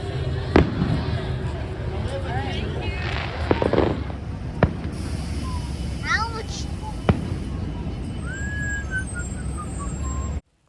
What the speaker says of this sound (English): we saw these amazing fireworks over in the Disneyland side